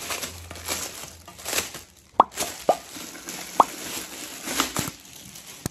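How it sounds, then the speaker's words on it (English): Light plastic vase handled up close, with soft crinkling and rustling broken by a few sharp hollow taps and knocks. "And it is a plastic vase. ASMR. It's a plastic vase."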